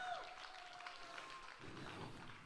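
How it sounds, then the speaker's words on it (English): Audience applause at a Dreamers Academy victory event, a steady wash of clapping at moderate distance that carries on through the moment and thickens toward the end. "Big round of applause."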